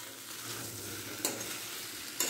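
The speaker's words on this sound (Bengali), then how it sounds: "এই যে আলু পটলটা কষাচ্ছি" Potato and pointed gourd being stir-fried in a hot pan, with a steady loud sizzle throughout and two sharp scraping strokes of the spatula near the middle and end; no speech.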